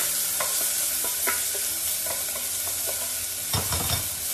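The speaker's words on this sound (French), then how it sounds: "j'ai la pâte d'ail au gingembre que je vais rajouter dedans. À petit feu, il faut pas que ça brûle." Garlic ginger paste sizzling in a pan over low heat as it is stirred, a constant frying hiss with scraping taps from the utensil, heavier scrapes near the end.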